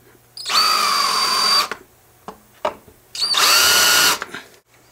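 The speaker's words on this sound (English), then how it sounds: "To get rid of the rough edges on your holes, you can use a countersink bit like this" A power drill spins a countersink bit to chamfer drilled holes in aluminum, two loud whirring bursts of about a second each separated by short clicks and taps, close up with no speech.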